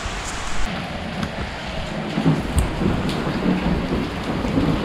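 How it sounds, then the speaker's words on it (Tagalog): Heavy downpour drumming steadily on surfaces, with rumbles of thunder rolling in now and then, loud and continuous with no talk. "Grabe, ang lakas ng ulan."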